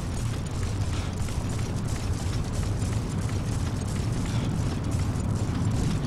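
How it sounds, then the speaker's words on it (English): A fire tornado in the Monster Hunter video game roars as a dense, continuous rumbling whoosh, loud and steady throughout with a heavy low-end churn and no voices. "It's a tornado made of fire."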